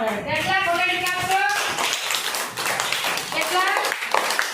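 Children clapping together in scattered taps, mixed with kids' voices and an adult talking over them.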